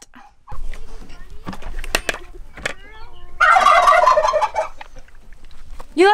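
A turkey gobbles close by in a burst of rapid, warbling calls, with scattered clucks and rustling before the gobble, alone and fairly loud.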